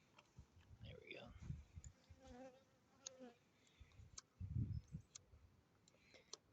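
Honey bees from a swarm with drones among them, buzzing faintly and close by in short irregular bursts. Soft handling noises and occasional bumps occur around them.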